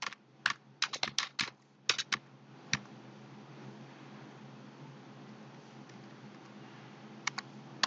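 Fingers type Python code into VS Code on a computer keyboard, with clusters of sharp, close keystrokes at the start and then long gaps broken by a few isolated taps over a faint steady hiss.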